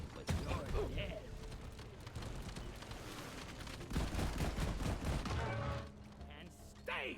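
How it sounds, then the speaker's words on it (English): Shotgun blasts and other gunfire pound away in the video game Deep Rock Galactic, a dense run of repeated bangs against a clamorous background of combat noise. "You set it on fire, then you just lay into it with a shotgun."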